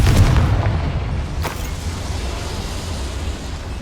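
A Confringo blasting spell in Hogwarts Legacy goes off with a deep, heavy boom at the start, a sharp crack shortly after, then a low rumbling tail that fades, with no voices over it.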